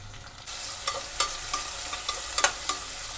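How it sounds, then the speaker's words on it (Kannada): Chopped onion frying in a pan for mutton pulao, a dense continuous sizzle with several spatula scrapes and taps against the pan at uneven intervals, close and clear. "ಈರುಳ್ಳಿ ಕಟ್ ಮಾಡಿದ್ನಲ್ಲ ಇದನ್ನು ಸೇರಿಸ್ತಾ ಇದ್ದೀನಿ ಈರುಳ್ಳಿ ಚೆನ್ನಾಗಿ ರೋಸ್ಟ್ ಆಗಬೇಕಿದು"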